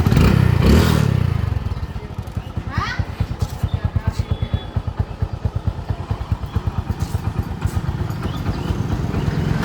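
A Hero Honda CD Deluxe motorcycle in good engine condition idles with a steady, even stream of close thumping engine pulses, with louder noise and voices at the start.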